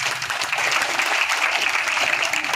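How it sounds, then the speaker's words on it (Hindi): Crowd at a farmers' protest rally at a toll plaza in Jind district, Haryana, breaking into loud, continuous applause, a thick, steady roar of many hands clapping close by without talk. "इसी के साथ में एक बार इनके लिए भी, हमारी बहन के लिए भी जोरदार तालियां बजाएंगे।"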